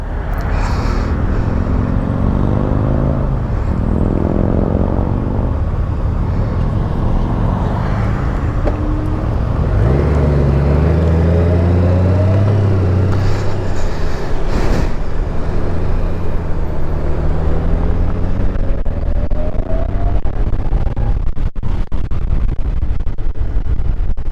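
Someone riding a Honda Gold Wing motorcycle on the road, with a loud engine drone that rises and falls in pitch as the bike accelerates and shifts, plus some passing road and wind noise.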